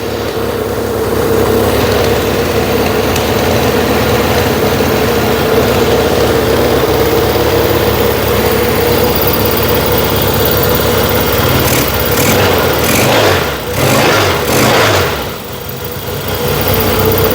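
A Yamaha XS1B motorcycle engine runs steadily at a loud, close idle, then is revved several times in quick bursts before settling back down, with no talking.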